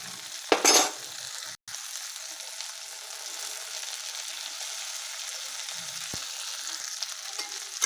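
Peas and a boiled potato fry in a pan, giving a steady close hiss and sizzle throughout with a brief clatter near the start and a short gap, no voices.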